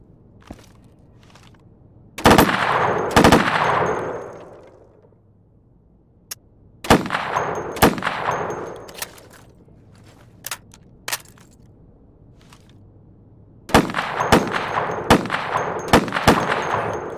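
Rifle shots in the video game Insurgency are fired at targets through plywood, loud sharp reports in short bursts of two or three with quiet gaps between, each shot trailed by a ringing echo.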